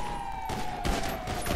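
Rapid gunfire in a GTA roleplay shootout, two quick loud bursts close together over a steady tonal game hum.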